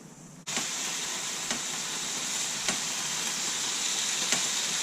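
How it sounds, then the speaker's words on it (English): Smoked free-range butcher's bacon sizzles in a hot sandwich press, a steady close frying hiss starting abruptly after a brief quiet moment, with faint regular ticks and pops running through it. "how I cook bacon is I use a sandwich press"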